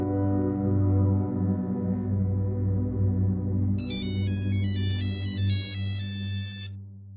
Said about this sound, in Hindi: गयूर भाई का फोन है।